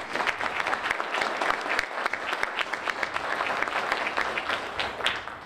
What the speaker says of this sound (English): So Paul deserves a big round of applause